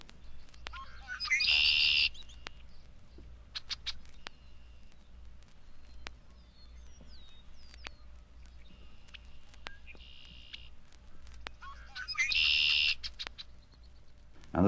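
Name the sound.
red-winged blackbirds singing by a pond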